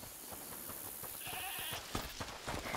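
Goat in A Plague Tale: Requiem giving a wavering bleat, faint and somewhat distant, heard indoors behind a locked door over quiet ambient game sound.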